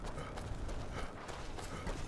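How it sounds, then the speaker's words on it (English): Horse hooves clip-clop at a quick gait in the video game Skyrim, a quiet run of rhythmic thuds with faint background noise. "Your horse is fucking noisy"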